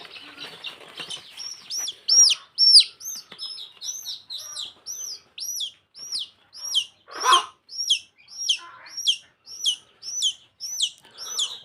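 Native chicken chicks peep steadily, giving a close series of high, evenly spaced chirps, one after another, with a little handling rustle at the start.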